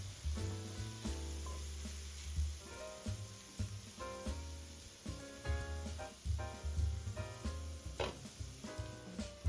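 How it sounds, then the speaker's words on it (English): Chopped vegetables sweat gently in a hot pan for a pasta sauce, giving a soft steady sizzle with occasional clinks of a utensil against the pan, fairly faint and close. "Let the vegetables sweat until vegetables look transparent and tasty."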